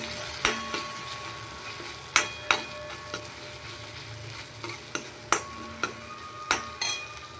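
Onion with ginger-garlic paste sautés on a tawa under a soft sizzle, punctuated by about eight sharp, irregular taps and scrapes of a metal spatula against the pan, with no voices.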